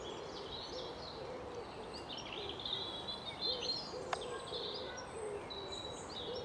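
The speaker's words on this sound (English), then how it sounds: "Predominantly robins everywhere, marking out their territory, no doubt." Robins sing faint, scattered, high phrases in the distance over the drainage channels of March water meadows near Winchester, against a soft outdoor background with no talking.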